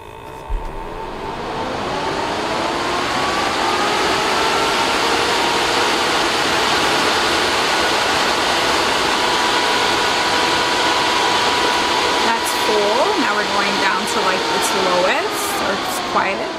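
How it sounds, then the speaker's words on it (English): A Valentino nail dust collector runs at full capacity, producing a steady whooshing fan hum that swells in after a click and holds evenly, with brief voices and small sounds near the end. "the Valentino is the slightly more quiet option when it is turned at full capacity"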